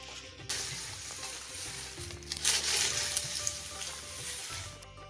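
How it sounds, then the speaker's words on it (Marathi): Dry rustling and crunching as crisp fried flattened-rice chivda is tossed around by hand in a large pan, with a steady hiss and no talking. "मोठ्या कढईमध्ये अशा हाताने व्यवस्थित तो हलवून घ्यायचा"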